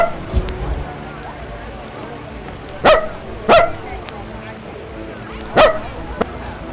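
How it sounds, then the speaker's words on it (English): Barks from a frightened, angry dog that had been left chained up: three loud, sharp barks with short gaps between them, heard over a steady background of noise. "The dog was very scared and angry."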